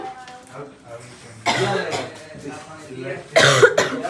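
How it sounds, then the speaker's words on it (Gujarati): In a cafe, two harsh, loud coughs break out close by, the second stronger, amid a voice speaking. "ઉધરસ થઈ ગઈ"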